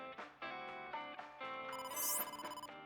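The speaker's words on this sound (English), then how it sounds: "I got a phone call." A telephone rings in a detective adventure game, repeated trilling bell bursts in a steady rhythm, fairly quiet and alone with no talk.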